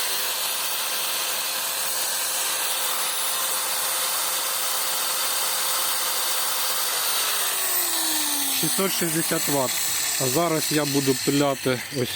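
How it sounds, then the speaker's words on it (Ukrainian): A steady mechanical whir of an angle grinder idling on an inverter runs throughout, with a falling tone near the end as it spins down amid some clatter. "У холостому режимі болгарка."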